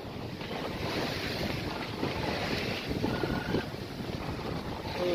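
Wind and waves on a sailing boat heading into Harwich through the Wallet Channel: a steady roaring rush of wind over the microphone with sloshing surf beneath, continuous and close, with no talking.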